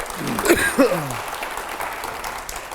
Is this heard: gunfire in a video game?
no